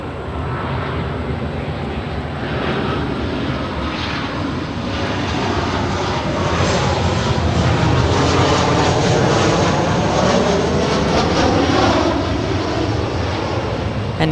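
A jet airliner rolls down runway 24 left at LAX for takeoff, a loud, broad roar of engines building steadily and holding, heard alone without talk.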